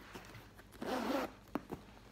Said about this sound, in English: They have beautiful zippers